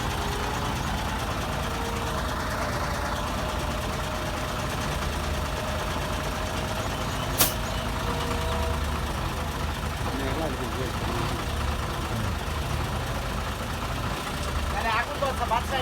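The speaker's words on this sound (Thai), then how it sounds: "ผมก็รถไถก็กำลังจะเคลียร์ทาง" A farm tractor engine drones steadily while clearing the way for a supply truck that slid and broke down, a continuous idling rumble with voices talking over it.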